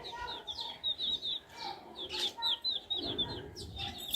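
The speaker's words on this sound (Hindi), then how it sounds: "अभी इनकी आवाज कैसी चू चू चू। चूजे हैं ये अभी छोटे हैं ना ये अभी।" Young chicks peep and chirp in rapid high bursts close by, mixed with some clucking from older chickens in a village yard, with faint background noise between calls.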